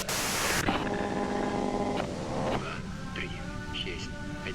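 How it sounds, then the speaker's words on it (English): Radio static hiss in the video game Disco Elysium, a steady broadband wash that cuts off sharply after a moment, followed by a quieter tonal hum with game dialogue spoken over it. "you can do it through the white noise."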